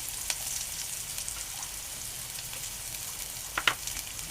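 Onion and turmeric dropped into hot oil give a soft, even sizzle, fairly quiet throughout, with a couple of sharper clicks near the end and no talking.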